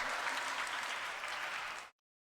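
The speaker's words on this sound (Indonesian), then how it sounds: "Tepuk tangan dulu ya" Applause at a gathering for a Quran education school, with steady group clapping that runs for nearly two seconds and then cuts off abruptly to silence.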